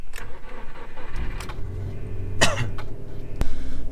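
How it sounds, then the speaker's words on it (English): A Subaru Impreza, just back from the body shop, cranks and fires up, its engine catching with a low rumble. A cough-like burst and a sharp click stand out over the idle as it settles. "start the car up."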